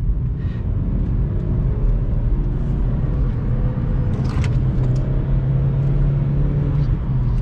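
Vauxhall Corsa driving at night, heard from inside as a loud, steady low engine and road rumble with a brief higher whine midway and no talk.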